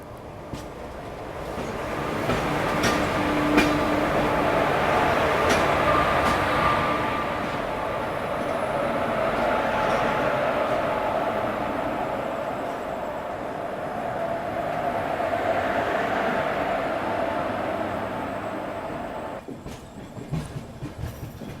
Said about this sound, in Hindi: अभी अपनी ट्रेन का अराइवल हो रहा है करजत रेलवे स्टेशन पे